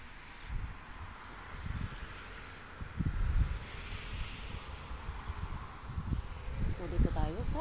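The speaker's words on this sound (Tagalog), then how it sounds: "Mahangin lang kasi eh." Wind gusting outdoors in an orchard of pear and apple trees, low rumbling buffets against the microphone rising and falling throughout, with faint speech mixed in.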